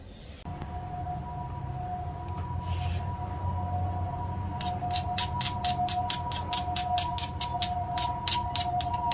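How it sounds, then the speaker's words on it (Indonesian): An ambulance siren wails steadily in the distance while street noise hums underneath; a rapid rhythmic clatter joins partway through. "Ini ambulan lewat teman-teman."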